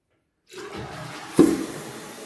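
After half a second of silence, a toilet flushes with a sudden rushing surge of water that continues roaring to the end.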